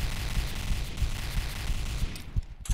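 Gunfire rattles in the video game Point Blank, with repeated rapid shots fired in uneven bursts at moderate loudness, closing with a few sharper cracks.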